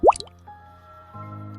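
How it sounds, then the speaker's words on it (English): One close water drip in a hallway, a quick bright plop with a short squishy echo, followed by a low steady hum; no one speaks. "I heard something, a faint sound from the hallway. Drip, drip,"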